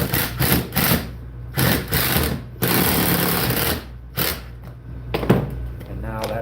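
A stainless steel screw is driven into the spindle of a lobster buoy in short, repeated bursts of close whirring and rattling, separated by brief pauses.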